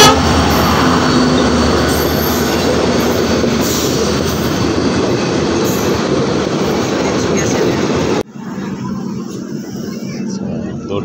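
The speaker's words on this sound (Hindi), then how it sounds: "रंगिया तक जाएगी ये ट्रेन, रंगिया तक जाएगी।" Loud, close rumble of a passenger train running on rails in Assam, steady roar with wheel noise that drops abruptly near the end to a quieter hum.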